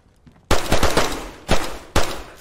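Loud gunshots in the survival game DayZ: after a quiet moment, a cluster of close rapid shots breaks out, followed by two more separate single blasts with echoing tails, and no talking.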